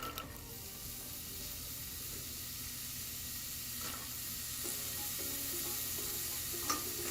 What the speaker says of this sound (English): Just stir fry until the onions are light brown or soft for about 5 to 8 minutes.